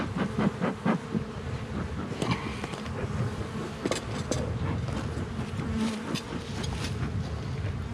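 Honeybees swarm around an open beehive during the first inspection of the year, a dense, continuous buzzing close to the microphone with individual bees zipping past now and then.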